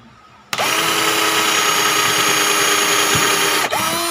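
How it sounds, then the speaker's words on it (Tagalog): A Black and Decker GC1800 cordless drill starts abruptly and runs at a steady high whine while drilling into wood, loud and close, with a brief dip in speed near the end. "So, drilling function tayo."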